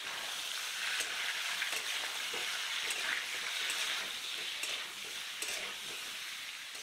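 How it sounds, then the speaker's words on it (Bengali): Chicken pieces frying over medium heat in leftover oil in a kadai wok while being stirred, a steady close sizzle with scraping stir strokes throughout and no talk. "কড়াইয়ের ওই বাকি তেলের মধ্যেই চিকেনের টুকরোগুলো দিয়ে মাঝারি আঁচে একটু নাড়াচাড়া করে নেব।"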